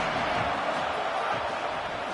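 A stadium crowd at a football game roars as a broad, continuous wash of distant voices, with a commentator talking over it.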